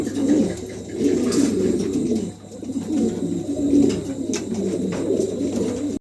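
Several healthy pigeons at a seller's coop coo in low rolling bursts, close and repeated, with faint background noise and no talking.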